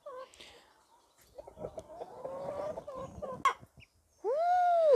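Hens clucking in a henhouse, a mix of soft murmuring clucks and sharper calls, ending with a loud drawn-out squawk close by.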